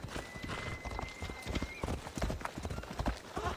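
Horse hooves gallop in the video game Assassin's Creed Odyssey, with rapid rhythmic clip-clop beats at close range and a brief whinny mixed in over background game sounds.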